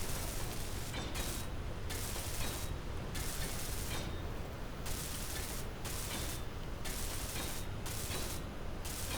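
Welding in the Space Engineers video game makes a continuous loud hissing, crackling stream with a pulsing, ratchet-like rhythm that cuts in and out briefly throughout.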